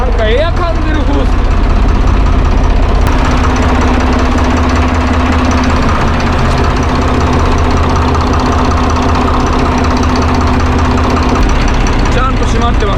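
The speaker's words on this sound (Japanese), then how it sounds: "エンジンの調子がおかしい。" Boat engine running roughly, as though it is drawing in air, a loud, steady, close rumble with an uneven knocking beat throughout, with voices heard over it.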